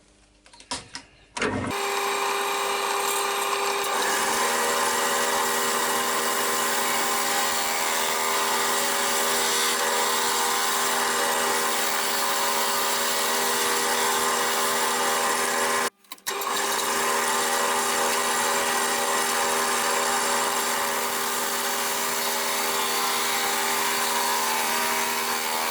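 A spindle gouge cuts wood spinning on a lathe, a loud continuous whirring hiss with a steady motor tone, briefly stopping and resuming partway through.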